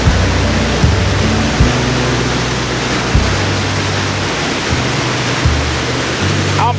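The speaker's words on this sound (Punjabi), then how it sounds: "ਇੱਥੋਂ ਵੀ ਪਾਣੀ ਨਾ ਡਿੱਗਦਾ ਆ ਥੱਲੇ" Water falls over rocks at a Scottish waterfall as a loud, steady, broadband rush, with low humming tones underneath that rise and drop now and then.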